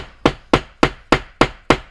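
A hammer strikes the spine of a Ferrum Forge Stinger button lock knife six times in an even rhythm, each sharp, loud, close whack decaying quickly before the next, with no talk.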